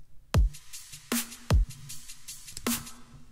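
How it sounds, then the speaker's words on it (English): A punchy drum loop with deep kick hits and sharp snare cracks in a steady, sparse groove, heard cleanly with no talking. "So if we take our drum loop here, sounds like this."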